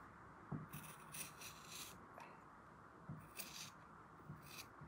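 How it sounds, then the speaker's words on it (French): Scissors cut through fabric in a few quiet, separate snips and scraping strokes, close by and faint, with no one talking. "Avec des ciseaux qui coupent bien, c'est mieux."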